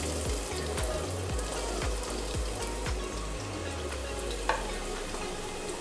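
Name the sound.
onions frying lightly in hot oil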